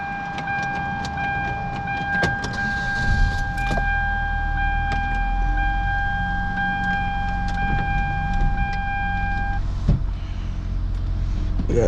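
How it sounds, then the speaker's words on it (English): A car sits running and warming up on a road trip, its low engine idle humming steadily under sustained electronic dashboard tones and occasional clicks and knocks inside the cabin. "We got the car on,"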